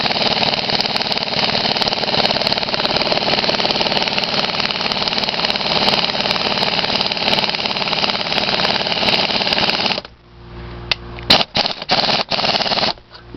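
A loud, steady air-powered impact tool hammers continuously for about ten seconds while working the wheel off a Harley Bee motorized bicycle, then stops and gives a few short bursts.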